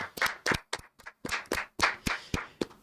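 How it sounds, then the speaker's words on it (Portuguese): Hand clapping at the close of a Christian women's podcast episode, a small group producing about a dozen sharp, distinct claps in an uneven rhythm, near and fairly quiet. "uma salva de palmas para a Essência Cast"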